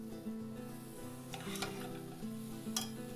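Collard greens and kale with shallots cook in olive oil, a steady close sizzle with light stirring and a few utensil clinks against the pan.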